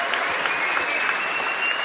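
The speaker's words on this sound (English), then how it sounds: "You could do that, we could clap for that." An audience at a Bitcoin conference in Amsterdam bursts into steady, dense clapping that fills the hall, sustained and fairly loud throughout with a faint voice underneath.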